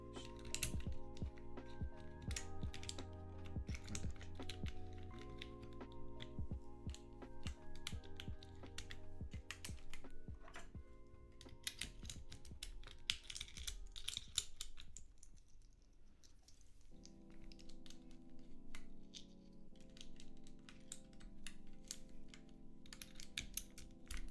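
Typing on a newly built mechanical computer keyboard, a dense, steady patter of close keystroke clicks running continuously under a sustained musical backing that shifts partway through.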